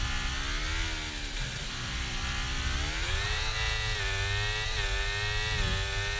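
Formula 1 car engine in second gear at the Belgian Grand Prix at Spa, a loud, steady high-pitched whine with smoothly rising and falling revs, heard close and continuous without talk.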